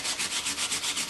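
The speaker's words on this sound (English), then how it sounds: "I am going to use a little piece of sandpaper" A small piece of sandpaper rubs quickly back and forth across the frame of a reversed canvas, giving a brief run of about seven even, close, gritty scraping strokes with no talk.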